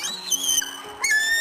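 An eagle's call from a played recording: two brief, clear, high whistled screeches, each sliding downward, loud and close.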